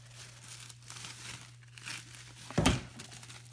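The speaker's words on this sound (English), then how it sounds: "So there is some bubble wrap around this piece. So let's take that off." Bubble wrap and plastic packaging being pulled off a kick scooter during unboxing, a soft ongoing crinkle with one sharper crackling rustle near the end, close up over a steady low hum.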